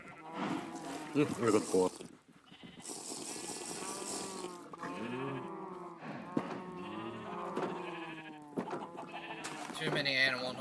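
Sheep bleating in a video game, several wavering bleats coming one after another. They sound moderately loud and sit among talk from a person.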